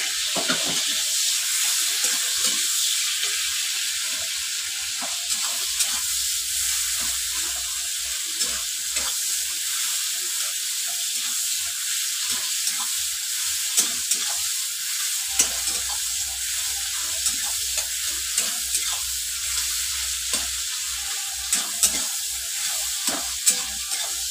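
Chopped tomato sizzles steadily in hot oil in a pan as Bengali-style chowmein is cooked, with a continuous close fry broken by frequent stirring scrapes and clicks and no talking.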